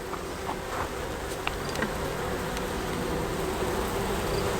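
Dense, steady buzzing of many honey bees at an open hive, close and continuous with no pauses and no talking.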